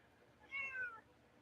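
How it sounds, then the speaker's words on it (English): A pet cat lets out a single short, faint meow close to a microphone, rising and falling once against a low background hum. "Every time I get on the mic, my cat wants to talk to me."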